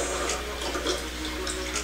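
Water runs and splashes steadily while rinsing a baby's head, a continuous close faucet-like pour with no talking.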